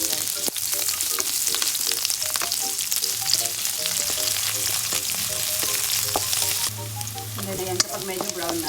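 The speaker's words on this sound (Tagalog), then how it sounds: "igigisa lang natin dyan yung sibuyas" Sliced onions sautéing in hot oil for a home-style bangus steak, a steady close crackling sizzle with light stirring scrapes throughout, no voices.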